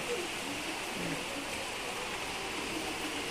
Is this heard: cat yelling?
no